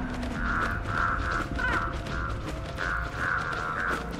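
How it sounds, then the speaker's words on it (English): Crows caw repeatedly in a steady series of harsh calls over a rough, noisy outdoor background, with no talking. "Crows at your hook, woman."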